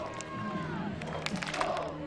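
A crowd at a Division III men's college championship final cheers at a distance, a soft, steady roar with a few louder shouts and claps rising near the end.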